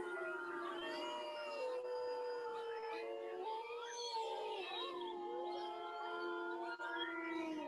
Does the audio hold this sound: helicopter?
no